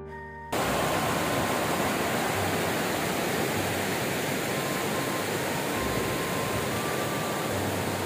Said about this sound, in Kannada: ಕೆರೆಯ ನೀರು ಹರಿದು ಹೋಗೋದಕ್ಕೆ ಮಾಡಿರ್ತಕ್ಕಂತಹ ವ್ಯವಸ್ಥೆ ಇದು. ತುಂಬಾ ಚೆನ್ನಾಗಿದೆ, ಒಂಥರ ವಾಟರ್ ಫಾಲ್ಸ್ ಇದ್ದಂಗಿದೆ.